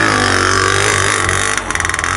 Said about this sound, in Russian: Полный газ в первой передаче.